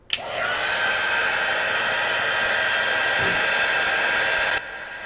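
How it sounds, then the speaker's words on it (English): A heat gun blowing hot air while drying grunge paste on a lighthouse canvas: it clicks on and roars with a loud, steady, broadband whoosh for several seconds, then cuts off abruptly, with no talking. "So let's turn on the heat gun real quick."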